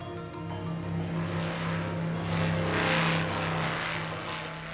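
Vickers Vimy biplane in flight over burning, clear-cut fields, its propeller engines giving a steady loud droning hum that swells slightly midway and holds without a break, with no talk.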